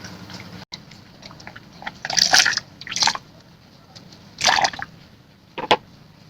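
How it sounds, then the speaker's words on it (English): A microfiber towel or handkerchief is dipped into a bowl of warm water. A handful of short, close wet splashes and drips sound over a quiet background. "Dip into hot water and give your skin a hot bath."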